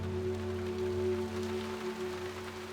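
Rain falls steadily at Loch Fyne, a constant wash of patter under a low steady hum, with no voices.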